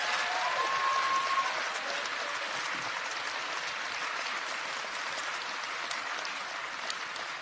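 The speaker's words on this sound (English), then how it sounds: "Let's give her a big round of applause" An audience applauds Linda Beagle Schulman, a steady wash of many hands clapping at moderate volume that fades slightly toward the end, with no talking over it.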